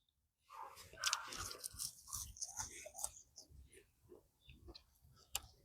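McDonald's fries from the SpongeBob collaboration being eaten close to the mouth, a rapid series of crisp crunching bites and chewing that fills the whole clip.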